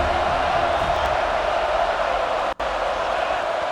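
Steady stadium crowd roar in a college football video game, Colorado playing at Florida State in Tallahassee, a dense continuous wash of cheering that holds level throughout with one brief dropout.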